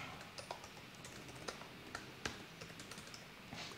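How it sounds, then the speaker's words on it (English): Quiet, steady typing on a computer keyboard during a programming session, a continuous patter of soft key clicks with a few louder taps, close but low in level. "I'm so validated about your typing right now"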